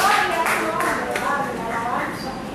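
Strong applause for Jesus from a church congregation during a sermon, a dense rush of clapping at full volume that eases slightly while voices murmur beneath it.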